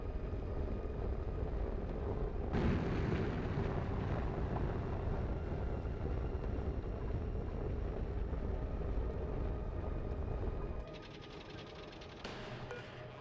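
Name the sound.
rocket returning from space mission in video game Oxygen Not Included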